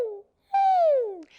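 A human voice imitating a puppy's high whimper with a closed mouth: a short hum, a pause, then a longer, louder whine that glides downward in pitch, close and alone.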